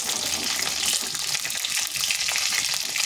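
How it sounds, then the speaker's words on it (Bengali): Pieces of katla fish fry lightly in hot oil, giving a continuous close sizzle and crackle that holds steady throughout, with no talking. "মাছগুলো ভাজা হয়ে গেছে, মাছগুলো খুব বেশি ভাজিনি,"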